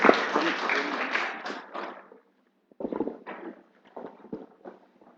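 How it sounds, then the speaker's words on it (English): Applause at a MIKTA campus event, a burst of clapping from a crowd that quickly dies away, followed by scattered softer claps and shuffling after a brief pause. "Once more, give a big round of applause."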